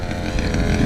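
A 32cc two-stroke engine with a broken clutch bell revs loud and close, a steady buzzing drone holding for about a second with no pauses.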